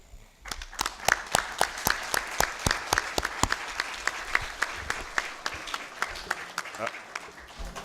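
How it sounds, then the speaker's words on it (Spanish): Lecture audience applauding, a dense wash of clapping with sharp individual claps standing out near the front, steady for several seconds and then thinning toward the end. "Y un aplauso por ustedes."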